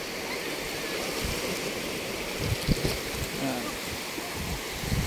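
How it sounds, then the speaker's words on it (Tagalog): Seawater rushing and washing into a small fishing boat off Palawan, a continuous hissing splash with occasional heavier surges, under faint voices. "Yan, papasok ng tubig."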